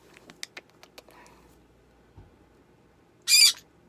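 A conure parrot lets out one loud, harsh squawk near the end, after a few soft taps and clicks in an otherwise quiet indoor space.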